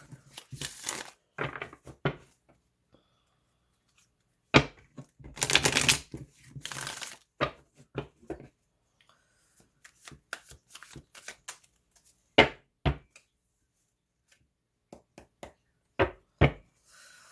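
Tarot cards shuffled close to the mic: sharp riffling bursts and soft taps come in irregular clusters with quiet gaps between them.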